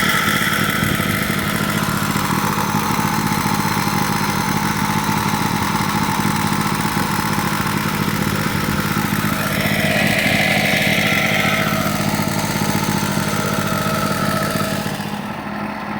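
A Champion portable generator, used and worn, runs continuously nearby with a loud, steady mechanical drone and buzzing hum, holding an even level with no talk.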